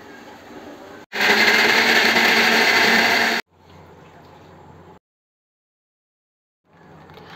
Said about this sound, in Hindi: अब टमाटर हरी मिर्च को मिक्सी के जार में डालकर पीस लेंगे।